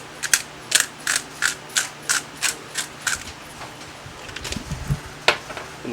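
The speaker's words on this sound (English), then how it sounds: "Now I'm just gonna grind a little bit of crushed black pepper in there." Hand-cranked pepper mill grinding crushed black pepper over a pot of jambalaya, giving a close series of about ten evenly spaced ratcheting crunches followed by a few scattered clicks.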